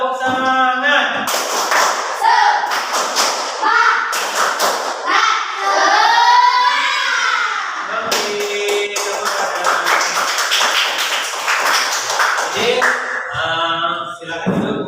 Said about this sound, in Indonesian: sekarang kita tepuk semangat dulu, berdiri di kursinya masing-masing